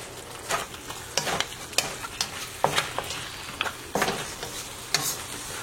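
Ground chana dal, curry leaf and urad paste frying over high flame for a dry mutton dish, a steady sizzle broken by repeated scraping stirs in the pan, close and alone.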